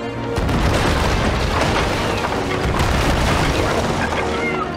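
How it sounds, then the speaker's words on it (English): Ship cannons boom in the pirate video game Sea of Thieves, a dense run of heavy blasts and rumbling impacts filling the whole stretch, loud and close. "Right, left side cannons."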